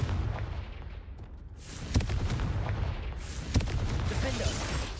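Confringo fire-blast spells in Hogwarts Legacy, a dense rumbling barrage of booms and explosive cracks, with two sharp blasts standing out over a constant heavy roar.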